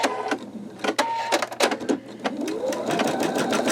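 An embroidery machine stitches black thread on a skull design, giving a close, steady run of rapid mechanical needle strikes with a low motor whir underneath.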